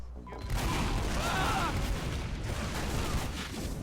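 Rockets and gunfire fill a hectic video game battle, with dense continuous explosions and rattling shots that blend into a loud wash of combat noise.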